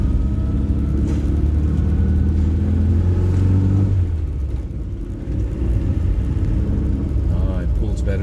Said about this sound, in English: already I can hear the sound of the engine is a heck of a lot better.